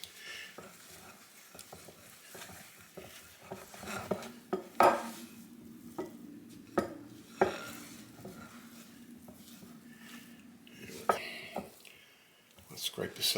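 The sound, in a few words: mixing and pushing cookie dough in a bowl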